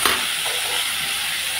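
Turmeric, cumin and salt are stirred in a hot cooking pan, giving a steady sizzling fry with a soft scrape at the start and no talking.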